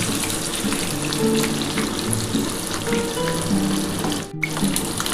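Eggs frying in hot oil for a restaurant-style egg curry give a steady, close, crackling sizzle, with a brief dip near the end as they are lifted out.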